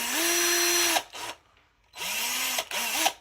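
A power drill fitted with a screw extractor whines at high speed against a stripped screw, two long steady bursts about a second each, separated by brief stops and a short lull, loud and close.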